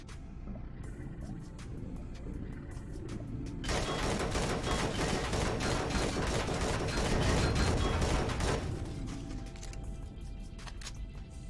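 Turret gunfire in the space survival game Empyrion Galactic Survival: rapid, sustained bursts of automatic shots crackle loudly for several seconds in the middle, with sparser shots and mechanical noise before and after.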